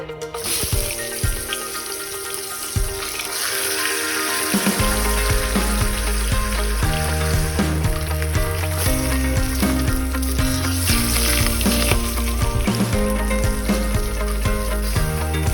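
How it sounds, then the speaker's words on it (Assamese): Hot oil sizzles and crackles loudly and continuously as a fish head fries in a wok, after a few quieter clattering moments at the start, with a low steady hum underneath. "মাছৰ মূৰ ভজাৰ বাবে তেল দিছোঁ"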